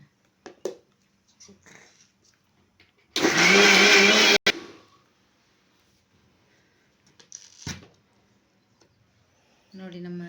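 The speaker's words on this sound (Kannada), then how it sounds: "ಪುದೀನ ಸೊಪ್ಪು ಇದನ್ನ ಹಾಕಿ ಇನ್ನೊಂದ್ಸರಿ ರುಬ್ಕೊಂಡ್ಬಿಡೋಣ" A mixer grinder loudly grinds chutney with coriander and mint leaves for paddu, in a single harsh burst of a second or so amid quiet kitchen clatter.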